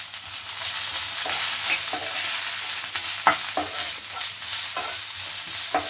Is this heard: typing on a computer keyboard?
no